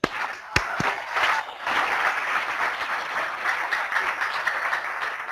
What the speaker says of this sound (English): Let us all have a round of applause for Tanvi.